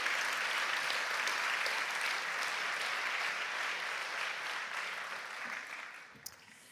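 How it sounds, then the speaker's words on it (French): A crowd applauds with sustained, dense clapping that gradually tapers off toward the end, no voices on top. "Vous pouvez les applaudir en avance,"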